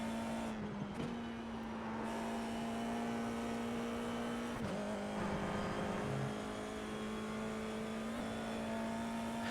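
An FIA F4 single-seater accelerating out of a corner at Oulton Park, its engine holding a steady, fairly loud tone close by that dips briefly around each gear change.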